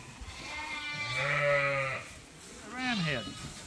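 Sheep and lambs bleat at close range: one long, wavering bleat followed by a shorter second call, with faint background noise in between.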